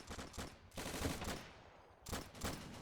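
Video game gunfire crackles in rapid bursts as soldiers lay fire on a target, with two dense volleys separated by a brief lull, fairly faint overall.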